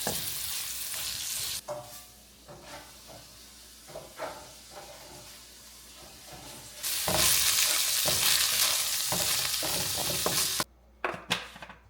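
Pasta being stirred in a pan on the stove, with scraping stir strokes over a steady frying sizzle and hiss that swells louder in the latter half, then drops briefly before a few final clinks.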